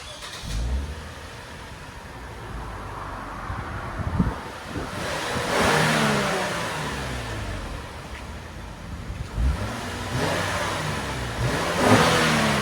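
Stock exhaust on a 2014 Lexus IS 250 AWD with the 2.5L engine, heard outdoors over wind noise: several short revs rise and fall, a few seconds apart, at moderate loudness.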